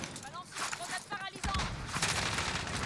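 Bursts of video game gunfire rattle through a shooter match, with rapid shots clustering over continuous game noise while a player talks over it.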